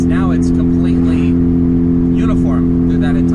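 A Mazda RX-8 rotary engine holds a steady, buzzing high-rev drone while breaking up slightly with occasional dropped pulses, loud and close, with a voice talking over it.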